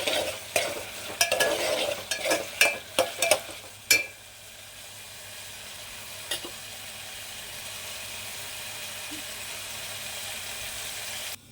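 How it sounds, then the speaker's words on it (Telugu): Cucumber pieces with salt get stirred in a curry pan: a run of rhythmic spoon scrapes and knocks over light sizzling for about four seconds, then a quiet, steady simmering hiss. "సాల్ట్ వేసేసి కలిపేద్దాం బాగా. కాసేపు ఇలా మగ్గనిద్దాం."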